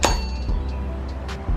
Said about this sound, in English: You hear that little clink?